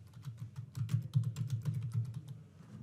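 Rapid typing on a computer keyboard while a workflow name is entered, a close, steady run of light key clicks with no talking.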